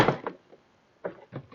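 Plastic clips snap as a door panel is pulled free from a Nissan Quest, giving a few short sharp thunks and clacks separated by a pause, close and alone.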